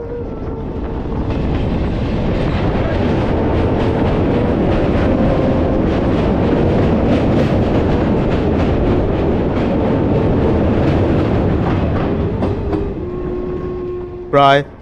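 A passenger train runs on rails through the Birbhum countryside, its loud, steady rumble and rhythmic clatter continuing for the whole stretch before easing near the end, where a short, sharp squeal or horn-like burst cuts through.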